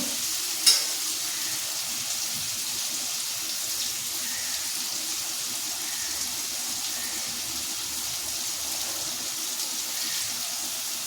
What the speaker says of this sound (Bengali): আলুটা ভেজে নিই, আলুটা ভাজা হোক